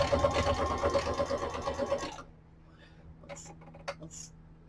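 A Singer Fashion Mate sewing machine sews a straight stitch on paper, with a close, rapid mechanical whir for about two seconds before it stops. Light clicks and handling noises follow in near silence.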